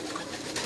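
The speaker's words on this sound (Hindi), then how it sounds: "कबूतर बड़े बड़े मज़ेदार हैं।" A pigeon gives a brief, soft coo, close by and heard alone over a faint outdoor background.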